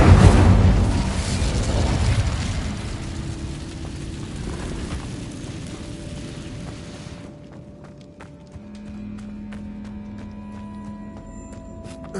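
An Incendio fire spell cast in the Hogwarts Legacy video game, a loud fiery burst and rumble at the start that fades into quieter ambient game sounds with faint steps.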